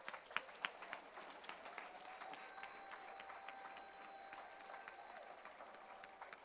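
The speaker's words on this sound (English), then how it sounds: "Parents, let's give them all a round of applause." Audience applause at a school awards ceremony: a sustained patter of many hands clapping in a hall, with a few sharper individual claps early on and a faint tone lingering underneath, moderately distant.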